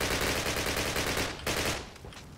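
Rapid automatic gunfire rattles in the video game Call of Duty, a dense loud burst that breaks off briefly and resumes before fading, with no talk.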